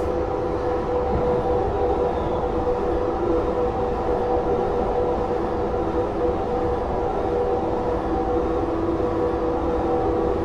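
An S-Bahn commuter train rolls past at a new airport railway station, a loud, steady rumble with a sustained tonal whine holding level throughout, no voices over it.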